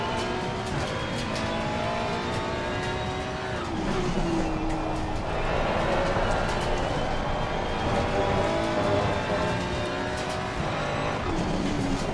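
Race car engines at Monza in the video game Assetto Corsa Competizione, a dense, continuous high-revving drone of several cars with rising and falling pitch as they shift and pass, loud and steady throughout.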